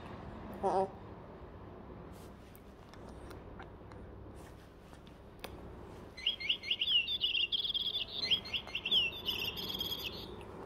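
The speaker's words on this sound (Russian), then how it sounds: "ты выброси эту птичку, она орёт, ты вздрагиваешь" A small pet bird chirps in a quiet room, a faint early call followed by a run of bright, rapid tweets in the second half, fairly close.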